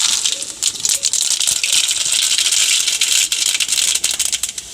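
Mustard seeds splutter and pop in hot oil while a Kerala-style lunch of dal with cucumber and mango curry is cooked, just after frying pappadam. The crackle is dense, bright and continuous, close up, with no voices.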